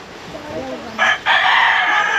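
A rooster gives a short crow, followed by a loud burst of broad, steady hissing noise.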